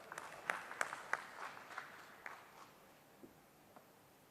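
Applause at a BME–BSE MoU signing ceremony. The clapping is fairly faint and distant, with scattered sharp claps that thin out and fade to a few stragglers.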